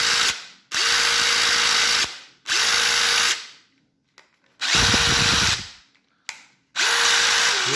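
A worn Dewalt DCF887 impact driver with a stuttering motor, running close and loud in several short bursts. The bursts are separated by brief gaps, and one middle burst sputters unevenly. No one talks.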